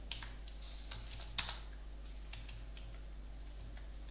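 Code is typed on a computer keyboard, with quiet, irregular key clicks in short clusters over a low, steady hum.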